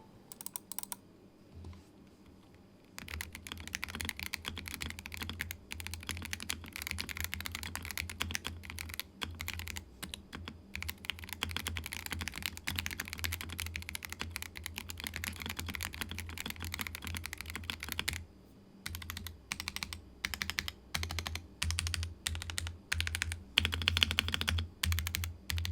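Continuous typing on the My Neighbour mechanical keyboard, a dense stream of close, clacky keystrokes with brief pauses, recorded alone without voices.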